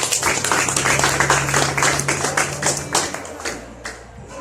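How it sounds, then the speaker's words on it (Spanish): A church congregation claps loudly together at a Spanish-language sermon, a rapid even run of sharp hand claps that thins out and stops near the end, with a low hum beneath. "No sé si me le puede dar fuertes palmas al Señor."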